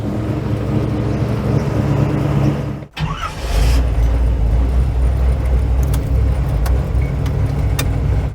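Inside the Franken Sled, a custom lead sled car on air ride, a steady low engine and road rumble fills the cabin. It drops away briefly early on, then resumes with a few faint clicks and rattles.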